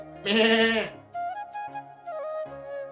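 A single loud bleat, a goat's wavering cry, opens the passage and is followed by quieter tonal calls, set within a narrated Hindi folk story with no speech over it.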